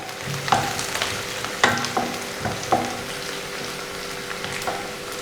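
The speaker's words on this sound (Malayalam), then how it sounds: "കറിവേപ്പിലയും പച്ചമുളകും ഞാൻ ഇട്ട് കൊടുത്തു. ഇനി നന്നായിട്ട് വഴറ്റുക." Curry leaves, green chillies and onion sautéing in a pan for a ladies finger and tomato curry, a gentle steady sizzle broken by a few sharp spatula clinks and scrapes, close and alone.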